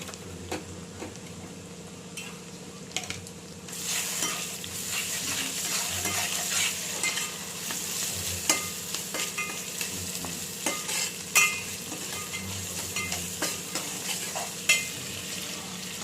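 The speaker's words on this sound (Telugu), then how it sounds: "అల్లం వెల్లుల్లి పేస్ట్ వేసేసి మొత్తం కలిసేటట్టు మొత్తం మంచిగా ముక్కలకు మొత్తం పట్టేటట్టు తిప్పుకోండి" Onions fried golden in a pan are stirred together with ginger garlic paste for a prawn gongura curry. Steady sizzling runs under scraping and ticking spatula strokes, and the frying grows louder after the first few seconds.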